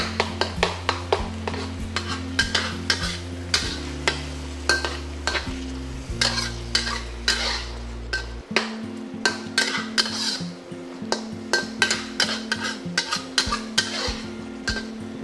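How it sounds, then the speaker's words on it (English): Ketchup fries in a pan in a home kitchen while a utensil stirs and scrapes, giving a steady run of sharp clinks and taps over a continuous sizzle and hum, close and fairly loud for about fifteen seconds. "you just want to fry up the ketchup a little bit"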